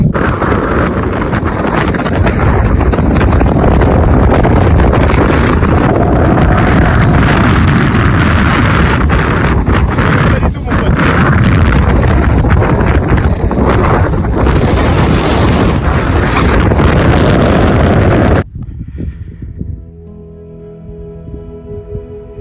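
Strong autumn wind roaring across a mountain, battering the microphone with loud, continuous buffeting gusts that cut off abruptly near the end, leaving a quieter rustle.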